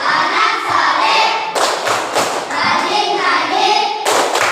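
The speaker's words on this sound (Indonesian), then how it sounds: "Sekarang saya kasih tepuk tangan dulu." Children clap their hands in rhythm while chanting together in unison, a few loud, sharp clap bursts landing among the close, energetic group voices.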